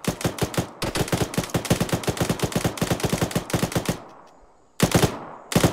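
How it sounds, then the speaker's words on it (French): Shotgun slugs fired in the video game Arma 3, a long rapid volley of loud sharp shots that pauses briefly before two more blasts, close and alone without talk. "On a un mec qui tire au slug depuis l'est là."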